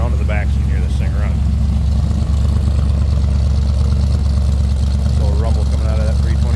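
A 1964 Chevrolet Impala SS with a 327 V8 idles from behind, a steady low rumbling pulse that holds throughout. Someone speaks over it at times.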